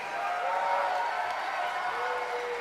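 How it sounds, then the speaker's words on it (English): Steady applause and clapping from a school concert audience for the intermediate choir at a middle school spring music event, a continuous crowd wash at moderate level. "Round of applause for our intermediate choir."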